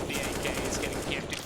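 AK rifle gunfire in a Counter-Strike match at a Blast Pro Series Lisbon 2018 grand final, rapid repeated shots in quick bursts, fairly faint under a commentator's voice and crowd noise.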